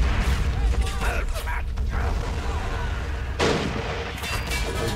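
Artillery and gunfire in the toy-soldier war game Army Men of War, a dense, continuous battle din of booms and mechanical clatter with a voice talking over it.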